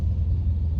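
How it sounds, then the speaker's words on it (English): A car speeds past on a road, a close, loud, steady low rumble filling the brief moment without any talking. "dang, he's speeding. Did you see that car?"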